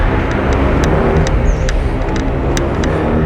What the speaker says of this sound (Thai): เกียร์หนึ่งหวังว่าคงจะขึ้นไหวนะ